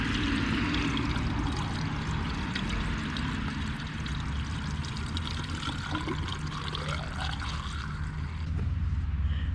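Window washer fluid being poured to top off the reservoir of a 2013 Ford Escape during an oil change: a steady, close, continuous liquid gurgle and trickle with no pauses and no talking.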